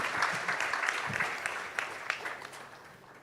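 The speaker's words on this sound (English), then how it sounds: "Can I have a round of applause for an excellent, outstanding panel?" An audience at a global economic policy forum applauds a panel, with sustained clapping from a full room that starts strong and slowly tapers off.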